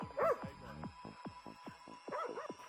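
A dog yips, whimpers and barks in a quick irregular series of sharp, close sounds, with a louder whining bark at the start and again near the end.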